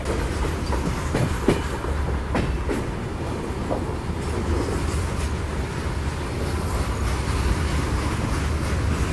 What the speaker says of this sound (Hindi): यहाँ पर अपनी महाराष्ट्र एक्सप्रेस पहुँच रही है अभी तुमसर रोड जंक्शन पर।